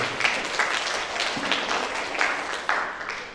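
An audience at a university seminar and programme launch gives a short round of applause, many hands clapping together loudly and fairly close for a few seconds.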